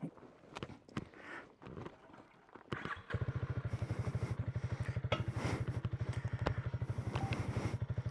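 A Harley-Davidson Pan America and a Honda CRF300L at the Lake of the Ozarks, with scattered clanks before an engine starts and settles into a loud, close, throbbing idle.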